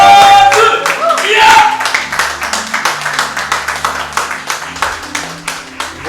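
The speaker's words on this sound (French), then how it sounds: "Si tu veux acclamer Jésus, acclame-le." Clapping to acclaim Jesus at a religious gathering, starting with a brief loud flourish of applause and voices, then settling into steady rhythmic group clapping with a low hum underneath.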